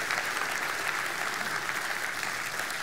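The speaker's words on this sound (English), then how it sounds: "give them a round of applause" A church congregation applauds during a worship service, a continuous, fairly quiet patter of many hands clapping with no break for the whole short stretch.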